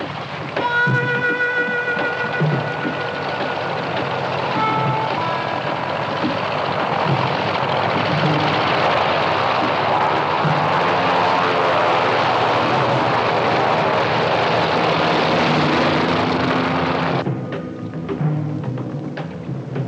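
Aircraft engine drones steadily throughout a flight, a loud, continuous cabin roar with a few tonal whines near the start and a slight drop in level near the end.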